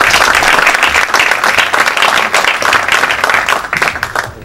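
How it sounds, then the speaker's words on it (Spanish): Audience applause at an engineers' award ceremony honouring 25 years of professional service, a dense, steady wash of many hands clapping close by throughout, with no talk over it. "Bien, felicitaciones, aplausos."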